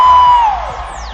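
Studio audience at a Filipino TV game show shouting and cheering, a loud whooping crowd roar that swells at the start and then tapers off over a second.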